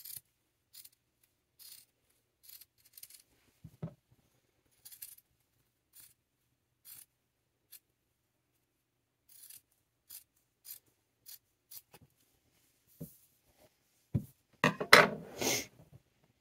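Scissors snipping through waste yarn between two handwoven towels, a sparse run of sharp, close cuts spaced irregularly, ending in a louder flurry of rustling snips.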